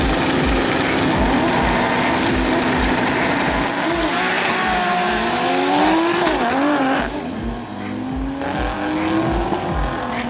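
A loud drag racing car engine, a Nissan Laurel, roars and revs at high pitch, shifting through gears as it tears down the strip on a pass, with a steady low pulsing beneath.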